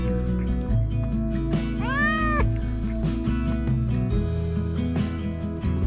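A cat meows once, a clear rising-and-falling call, heard over a loud, steady, tonal background of music throughout.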